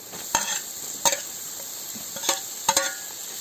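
Carrots and onion fry in a kazan under a soft, steady sizzle. Four or five sharp scrapes and clatters come as a utensil stirs the pan, all close and fairly quiet.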